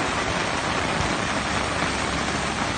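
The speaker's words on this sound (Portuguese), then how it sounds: "dia de muita água e de muita chuva, aqui em Sobral, no Ceará" Heavy rain pours steadily in Sobral, Ceará, a dense, unbroken hiss close to the microphone with no letup and no voices.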